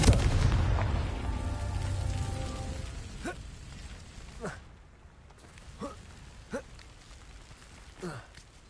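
A Confringo blasting spell goes off in Hogwarts Legacy as a heavy booming explosion with a crackling magical tone, fading into a series of smaller sharp impacts and thuds, over faint game ambience.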